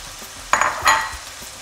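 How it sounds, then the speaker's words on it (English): Rice and tomato frying in a pan as a stuffing for lamb-stuffed zucchini, with two quick bursts of sizzle as the mixture is stirred, close and fairly loud and no voices. "Give it a good fry, good stir up."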